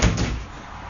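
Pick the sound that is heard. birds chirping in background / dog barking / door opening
door opening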